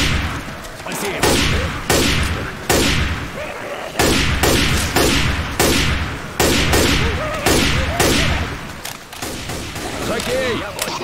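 Repeated gunfire from the zombie shooter Left 4 Dead 2, sharp shots recurring every second or so in a loud, dense burst pattern with game effects and voices mixed in.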